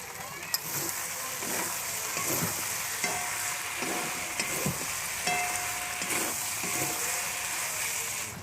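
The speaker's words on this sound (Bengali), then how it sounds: "আদা রসুন বাটাটা দিয়ে দেব।" Ginger garlic paste frying in a pan, a constant sizzle with rhythmic scraping stirs and occasional metallic clinks, close by.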